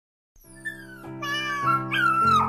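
A cartoon cat in an animated film gives a series of high, drawn-out meows, clear and close with nothing else around them.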